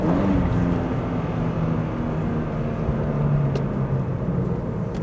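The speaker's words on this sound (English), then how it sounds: "Listen to the beautiful Boxer" A Subaru BRZ's naturally aspirated boxer engine drones at a steady cruise on a back road in Mexico, a loud, constant rumble of engine and road noise with no talk over it.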